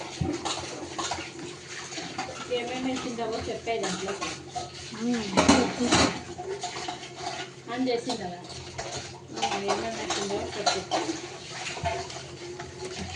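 Dishes and utensils being washed by hand, with clinking pots, plates and cutlery and some running water, close by and under someone talking almost the whole time.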